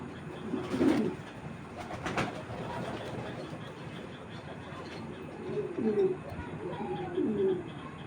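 Racing pigeons coo in soft repeated bursts, moderately close, with a low murmur of background noise and faint talk.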